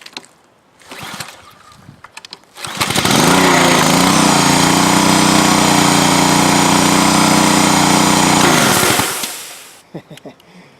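A small pressure washer engine with a leaking valve sputters, catches and roars loudly at a steady high pitch for several seconds, then cuts off and winds down.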